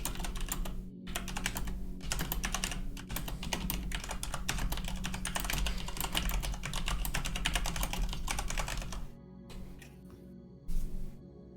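Someone types on a cheap mechanical keyboard during a GeoGuessr tournament match, with rapid, dense, continuous key clatter lasting about nine seconds, then a pause and a few last scattered keystrokes, loud and close.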